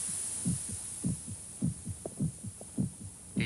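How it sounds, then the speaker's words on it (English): A human heart pounding against the ribs, heard as a steady series of deep, muffled lub-dub thumps in paired beats over a faint high hum, with no talk. "The sound of the heart pounding against the ribs."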